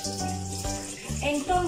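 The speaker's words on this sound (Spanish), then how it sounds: "Déjenme lavarme las manos." Tap water runs steadily into a sink as hands are washed under it, a close, continuous splashing gush with shifting tones as the hands move through the stream; a voice is faintly heard under it.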